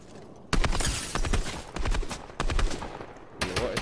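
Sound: gunfire in a shooter video game

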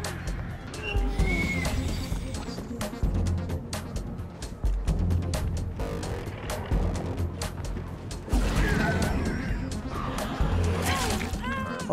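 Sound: crows in Dead by Daylight video game

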